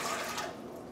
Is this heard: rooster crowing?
no